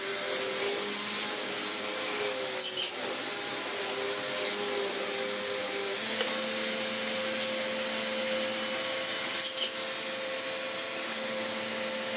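An AEG vacuum cleaner runs steadily up close, a constant whining motor drone with a high-pitched hiss, changing slightly in pitch as it works, with a couple of brief rustling bumps and no talking.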